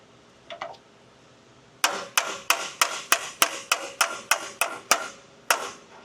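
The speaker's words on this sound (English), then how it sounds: "So take your pry bar, go on the lip, kind of rest it on the control arm, just tap her in." A pry bar taps a clamshell bushing into a Toyota truck's control arm, striking about twelve sharp, metallic blows in a steady rhythm, close and fairly loud, after a couple of lighter knocks.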